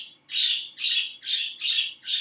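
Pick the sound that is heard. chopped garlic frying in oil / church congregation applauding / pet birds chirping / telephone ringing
pet birds chirping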